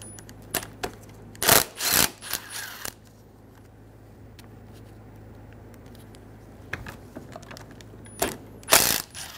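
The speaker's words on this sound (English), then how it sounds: "Using a 10 millimeter socket, remove the 4 nuts for the fan blade." A socket ratchet loosens the fan blade nuts on a 2005-2015 Toyota Tacoma 2.7L four-cylinder, with short bursts of close, loud clicking separated by quiet pauses, and a few light metallic taps in between.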